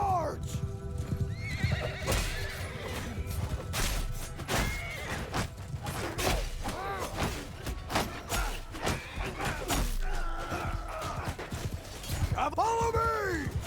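Cavalry horses thunder across a battlefield in Mount & Blade II: Bannerlord, with dense galloping hooves, repeated whinnies and neighs, and shouted commands over the top throughout.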